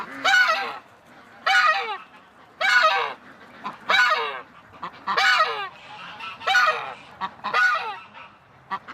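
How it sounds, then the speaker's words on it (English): Repeated loud honking calls from ducks, about seven bursts in a steady rhythm, close by with no talking. "Oh, ducks."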